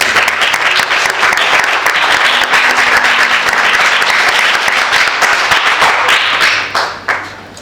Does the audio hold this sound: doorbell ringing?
no